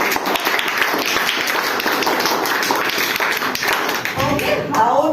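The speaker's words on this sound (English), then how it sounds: "Clapping." A classroom group claps together in a dense, steady burst of many hands, loud and close, during an English lesson.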